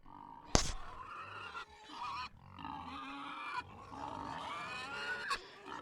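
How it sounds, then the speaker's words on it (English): Pigs grunt and oink in a low, muffled jumble with a sharp knock near the start and uneven bursts of snorting throughout. "let's go ahead and cut out the sound of the pigs"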